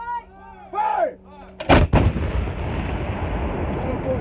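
Artillery gun firing in Ukraine during a counteroffensive: a deep booming blast rings out near, followed by a rumbling roar that fades slowly; before it, voices can be heard with a low mechanical hum.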